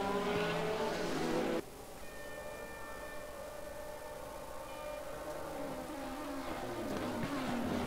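Ferrari GT3 race cars lapping the Red Bull Ring in a racing video game: a faint, steady engine drone with rising and falling tones, and a sharp drop in roar early on as a car passes.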